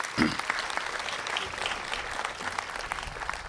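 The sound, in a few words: audience applause at grand opening event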